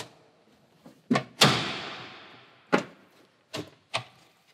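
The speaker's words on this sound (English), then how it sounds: "If I open the door," The cockpit door of a Seafire World War II fighter aircraft is opened, giving several sharp metallic clunks and knocks, one louder bang with a ringing decay, close and alone.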